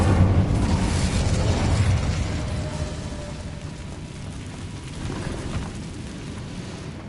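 A fire spell cast in Hogwarts Legacy roars out as a loud, dense burst of crackling flame that swells at the start, then eases into a steady sustained rush with no talk over it.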